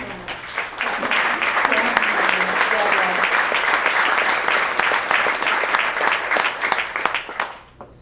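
Sustained, dense applause from an audience at a centenary recognition evening for the Société Provancher, loud and steady for several seconds before tapering off at the end.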